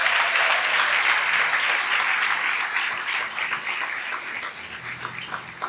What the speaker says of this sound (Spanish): Denle un aplauso entonces.